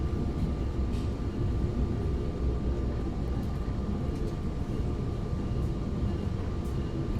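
The Purwojaya train arriving at Cirebon station produces a steady, dense rumble with a constant hum, heard from on board with no distinct clanks standing out.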